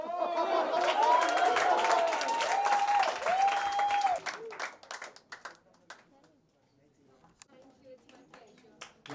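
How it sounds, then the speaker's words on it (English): Loud applause and cheering from a college audience for three students, dense clapping with whistles and shouts for about four seconds, then thinning to scattered claps and chatter. "Big cheer for Bhavi, Ishita, and Sukriti."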